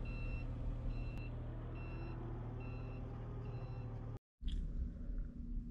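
Reversing beeps sound from a forklift backing away from a truck, a steady series of evenly spaced electronic tones over a low engine rumble, followed by a brief cutout and a hiss.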